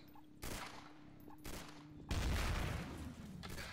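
Gunfire in a Garry's Mod Trouble in Terrorist Town match: a burst of loud shots followed by a sustained rapid volley of overlapping gunfire, close and dense, with no talking.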